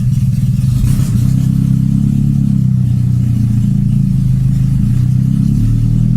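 A car engine idles roughly in very cold weather with low oil pressure, a steady, loud low rumble running uneven throughout with no talk over it.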